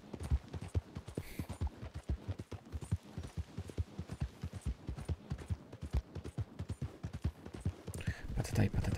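A horse gallops in Red Dead Redemption 2, its hooves drumming in a fast, steady, close clip-clop rhythm that runs throughout, with someone talking over it.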